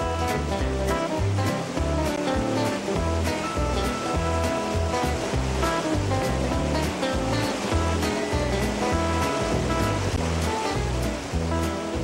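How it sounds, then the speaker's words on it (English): Rushing water of the Athabascan River below the falls roars in a steady, loud, continuous wash, with no voices. "This journey starts below the Athabascan Falls, and we'll run the river for about 10 miles."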